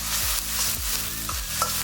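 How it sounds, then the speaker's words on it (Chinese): Diced onion stir-fries in oil in a wok, a loud, close sizzle broken by rhythmic scraping strokes of a spatula, with no voices. "锅中放一些油，和我们平时炒菜时用的油一样多就行。 下入洋葱丁炒香，"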